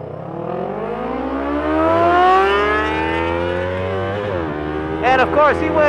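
Honda CBR 600RR, a modified Yamaha R3 and a stock Yamaha R3 accelerating hard from a traffic light, loud engines rising steadily in pitch through the gears, with another engine revving sharply near the end.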